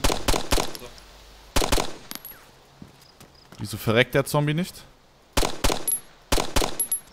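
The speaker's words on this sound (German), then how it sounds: "Ich erschieße jetzt das erste Mal einen Zombie mit einer Pistole." Pistol shots fired at a zombie in the survival video game DayZ crack out in quick clusters, with a pause between volleys. Someone talks in the gap between the bursts.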